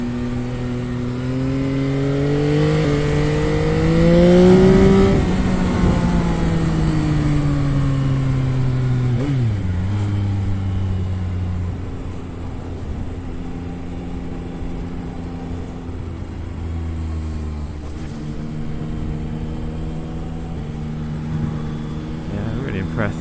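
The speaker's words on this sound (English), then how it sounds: "Changing gear more than I normally would, but bed that gearbox in." Yamaha XSR 900 motorcycle riding along with a new gearbox, engine rising and falling through repeated gear changes, loud and close, with wind noise and no speech.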